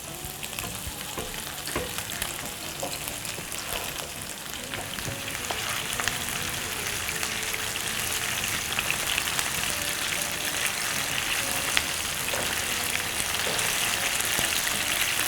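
Spring onions deep-frying in oil in a wok, crackling and sizzling steadily up close, the sound thickening slightly over time, with occasional stirring scrapes and no speech.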